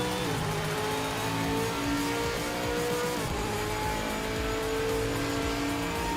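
Ford Falcon race car in a racing video game, engine revving steadily with quick paddle-shift gear changes, a continuous loud drone with rising and falling harmonic tones.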